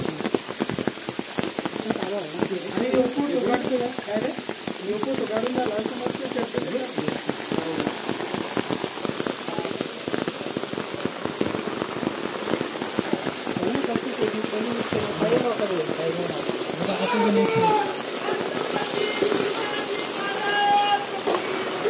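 Rain patters steadily on surfaces close by on a trek at Raigad Fort while people talk over the continuous downpour.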